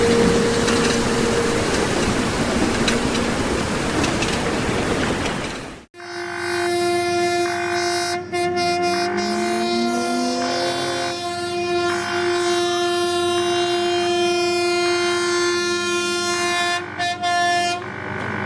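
Heavy rumbling rail noise from a train bound for Mumbai after heavy rain gives way abruptly to a sustained, loud, tonal horn-like drone with a rhythmic pulsing pattern, no speech.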